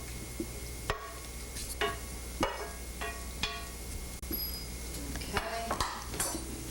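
A utensil mixes pasta and sauce in a dish, with irregular clinks and scraping knocks of metal against crockery every second or so over a quiet kitchen background, no talking.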